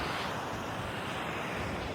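Sea waves wash onto the shore in a soft, continuous surf roar mixed with wind buffeting the microphone, faint and steady with no voices.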